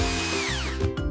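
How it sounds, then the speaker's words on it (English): A power drill runs steadily for about a second, its motor giving a close, continuous whine that dips slightly in pitch partway through. "This is a drill."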